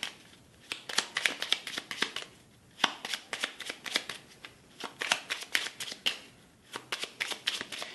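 Tarot cards being shuffled by hand, a close run of crisp riffling flutters and soft slaps repeating in quick bursts over about eight seconds, with no voices.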